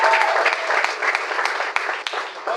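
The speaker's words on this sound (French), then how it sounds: "Nous devons aussi acclamer pour lui le coordonnateur national" A crowd at a public gathering about ministry reforms applauds for the national coordinator, with dense, steady clapping close by and loud throughout.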